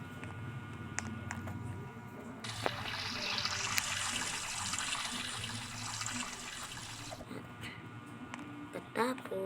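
Steady rushing water pours for several seconds, like a running shower, with a voice speaking faintly before it starts and after it stops.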